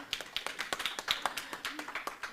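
A congregation applauding at a church gift presentation, a quick run of sharp claps from a small group at moderate distance, irregular and fairly light, with faint voices around them.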